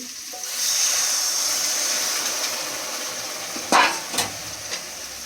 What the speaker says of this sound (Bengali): তো এবারে জল ঢেলে দিচ্ছি।